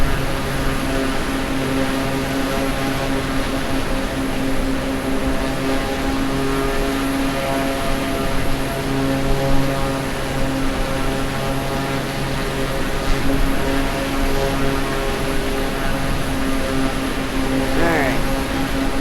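Propeller aircraft engine in Microsoft Flight Simulator 2020 during a flight over Honolulu, a loud, steady droning hum with constant tonal whine, continuous throughout with no break.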